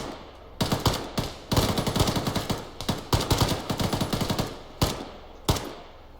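Repeated bursts of automatic machine gun fire in the military shooter game Arma 3, loud and close, sharp rapid rattling volleys broken by short pauses, with a few single shots near the end and no talking.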